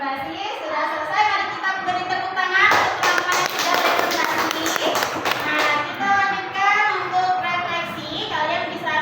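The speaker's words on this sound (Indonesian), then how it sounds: "Mari kita beri tepuk tangan untuk teman-teman yang sudah presentasi." Students in a classroom applaud after their classmates finish a presentation, with scattered claps and taps building into a steady round of clapping while children chatter throughout.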